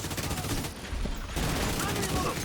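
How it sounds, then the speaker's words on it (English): A video game grenade launcher fires and explosions go off in a loud, dense barrage of booms, with a short dip in the middle before the blasts pick up again. "Grenade launch."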